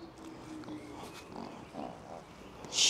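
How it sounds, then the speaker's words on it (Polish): A pig grunts a few times nearby during an outdoor walk, low rough snorts over quiet background noise, ending with a brief sharp sound. "Świnia."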